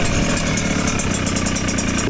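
Two-stroke dirt bike engines, a KTM and a Yamaha YZ 125X, idling nearby in a loud, steady rumble with a fast rhythmic pulse, close and continuous with no talking.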